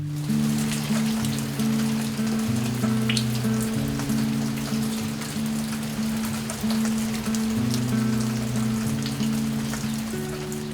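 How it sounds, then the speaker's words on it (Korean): A steady patter of fine drizzle falls on a spring day and fills the scene with soft, even hiss, while a low, gentle melody plays underneath. "보슬비가 내리는 봄날"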